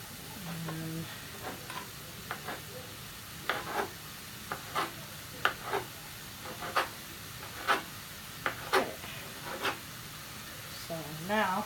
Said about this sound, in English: so now let that saute